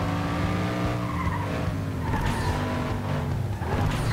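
Tires skid and squeal as a car slides under the handbrake in the racing game FlatOut 2, a loud continuous screech layered over steady engine roar for the whole stretch, with no talking.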